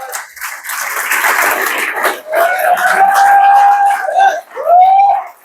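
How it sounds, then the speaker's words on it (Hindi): A crowd at an RCM business gathering breaks into loud applause and cheering for about two seconds, then a voice rises over the thinning noise. "एक बार जोरदार तालियां।"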